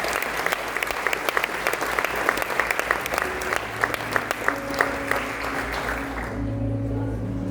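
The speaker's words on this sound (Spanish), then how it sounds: "Den un aplauso fuerte al Rey de Gloria en esta mañana." A church congregation applauds strongly during a morning worship service, a dense, steady wash of clapping from many hands that carries on for several seconds before thinning out at the end.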